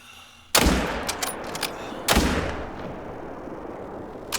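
Two loud rifle shots in theHunter: Call of the Wild fired at an animal about a second and a half apart, each a sharp crack followed by a long rolling echo fading into the outdoor quiet.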